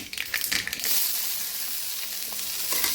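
Onion fries with mustard seeds in hot oil, starting with a burst of crackling and spattering that settles into an even, close sizzle.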